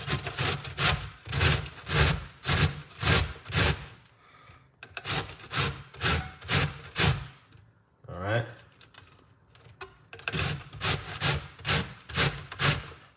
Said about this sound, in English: So we're going to simple grate it like this.